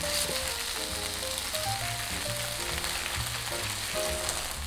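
Thin slices of ginger pork sizzle steadily in a hot pan right after being turned, a bright, constant frying hiss with no voices over it.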